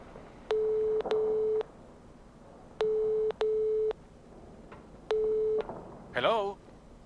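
A telephone call tone from the video game Nibiru, placed from a phone at a reception desk: three pairs of steady electronic beeps in a regular rhythm, clear and alone, with a brief muffled voice-like sound at the end.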